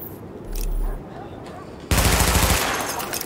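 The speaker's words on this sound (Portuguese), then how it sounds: "Teste de arma iniciado. Atire nos alvos destacados." Loud automatic gunfire during a weapon test in Tom Clancy's The Division, a brief burst followed by a sustained, close, rattling stream of rapid shots, with a voice speaking in the background.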